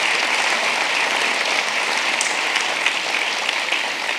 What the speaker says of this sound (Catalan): Un aplaudiment també per l'aniversari.